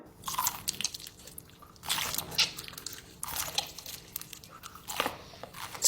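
Crunchy edible slime is bitten and chewed close to the mic, making a run of loud, crisp crunches in uneven bursts with short quiet gaps between them.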